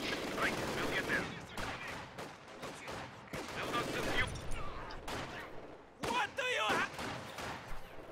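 Gunfire in Company of Heroes 2, including machine-gun bursts, comes as uneven clusters of loud shots and crackling volleys separated by brief lulls, with battle noise throughout.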